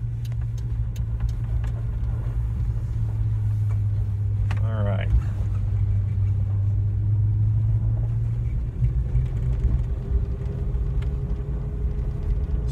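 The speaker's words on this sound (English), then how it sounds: "I gotta give it a little throttle to get all the way to the intersection here." An electric Suzuki Sidekick drives on a dirt road toward an intersection, with a steady low rolling rumble and road noise throughout and a brief whining tone partway through; someone talks over it.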